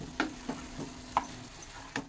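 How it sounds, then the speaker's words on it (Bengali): Cabbage cooked with potato and shrimp stirred in a pan after lifting the lid, quiet and close, with a faint steady sizzle under a handful of soft spatula scrapes and taps. "ঢাকনাটা তুলে নিয়ে এবার এটাকে ভালো করে নেড়ে চেড়ে দিচ্ছি"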